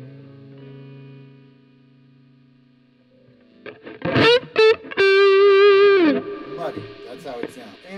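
Distorted electric guitar played through a Marshall DSL40CR amp with both master volumes maxed, starting soft and clean before loud chugged chords, a sustained ringing note that bends down, then further crunchy strums with a thick, muddy tone.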